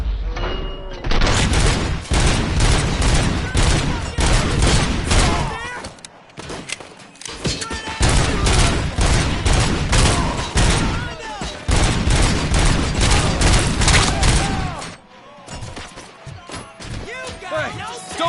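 Gunfire from the RoboCop film erupts as long, loud bursts of rapid automatic shots, a dense fusillade with brief pauses between volleys, while voices shout amid the shooting.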